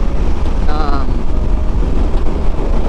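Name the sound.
wind while riding a motorcycle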